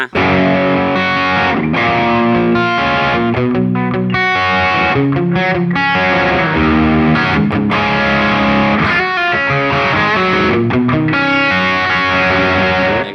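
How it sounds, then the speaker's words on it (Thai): Electric guitar through a Mooer GE-250 multi-effects processor strums chords with a lightly overdriven, gritty tone, playing steadily and loud with no voices. "จะเป็นเสียงแตกแบบว่าน้อยๆหน่อย"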